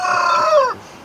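A chicken's loud, close call rises and falls over about a second, with a harmonic, crowing quality, ending abruptly into quiet.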